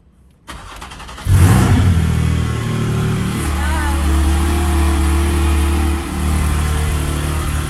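Car engine starts on a dyno, a click and crank followed by the engine catching and settling into a loud, steady idle with a brief rev, with people talking nearby.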